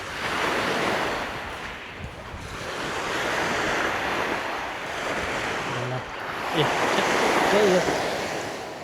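Waves wash steadily onto a black sand beach with coarse black gravel, the surf rising and falling continuously under strong wind buffeting the microphone, with a brief faint voice near the end.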